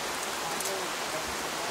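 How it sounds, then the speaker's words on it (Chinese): Steady rain falling outdoors in the Golden Triangle hills, an even, dense hiss with no other sounds over it. "这两天天天下雨。"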